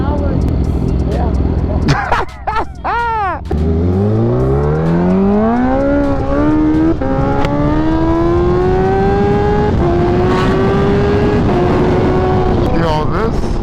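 A Kawasaki Ninja H2 motorcycle with a new exhaust roars loudly, its engine note rising steadily in pitch as it accelerates over several seconds, with brief revs and wind rush around it.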